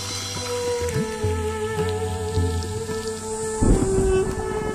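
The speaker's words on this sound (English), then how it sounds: "The annual rains bring a deluge that in a matter of weeks will turn the sepia landscape emerald green." Heavy rain pours across the African savanna with rolling thunder, a steady hiss of downpour under low rumbles and a loud crack near the end.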